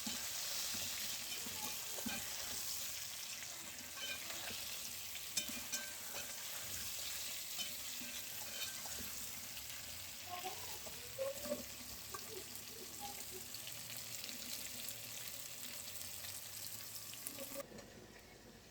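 Raw mango fries with crushed chilli, salt and turmeric, making a continuous, fairly quiet hiss of sizzling oil with occasional faint stirring clicks over about twenty seconds.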